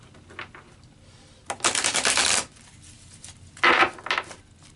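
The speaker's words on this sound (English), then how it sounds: "I feel like I need to do a shuffle for this for you guys." Tarot cards being shuffled in two quick bursts of rapid riffling, close up, with a short quiet pause between them and no talking.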